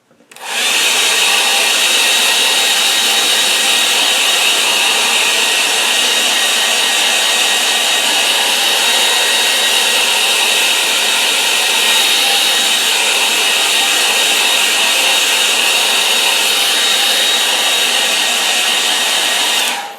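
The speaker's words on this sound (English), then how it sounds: "Get a hairdryer." A hairdryer blows steadily on a wet-in-wet watercolour painting, a loud, continuous broadband whoosh that runs unbroken for about twenty seconds with no talking.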